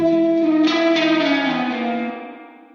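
Sustained electric guitar chord drenched in splashy, drippy spring reverb from an AmpDesigner amp setting, with a metallic wash that decays smoothly after the strum ends.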